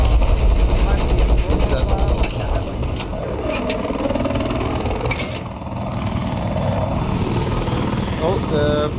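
Anti-aircraft gunfire in Battlefield 4 rattles in rapid bursts over a droning helicopter engine, loud and continuous, with excited voices talking over the battle.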